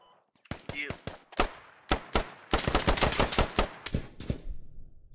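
Gunfire in the video game Squad: scattered single shots build into rapid, loud bursts of automatic fire, with sharp close cracks that continue for several seconds.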